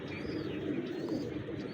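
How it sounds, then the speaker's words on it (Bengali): Blue dumba pigeons coo softly close by in a low, continuous rolling murmur, with faint chirpy notes above it. "এটা নীলদুম্বা রানিং পেয়ার, মাশাআল্লাহ, খুবই সুন্দর কবুতর।"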